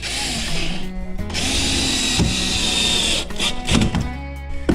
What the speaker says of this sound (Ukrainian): зручно, коли є два шуруповерти